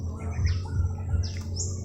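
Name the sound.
black-winged myna (jalak kebo) calling while feeding chicks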